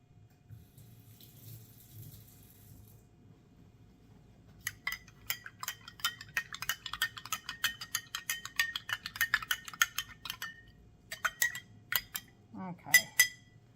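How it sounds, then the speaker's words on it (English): A spoon rinsed under a running kitchen tap while dyeing Easter eggs, a soft water stream broken by quick metallic clinks and taps as the spoon knocks against the sink. "I'm going to rinse the spoon off before I go here,"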